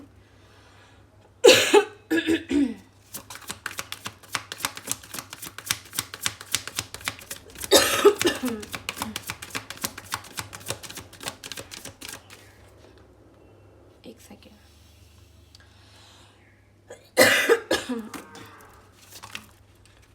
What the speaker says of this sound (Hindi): एक्चुअली अगरबत्ती से मुझे ज़्यादा खांसी हो रही है